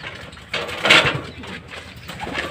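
A banded racing pigeon gives a soft, close cooing call, a brief rising coo near the middle over quiet background rustle.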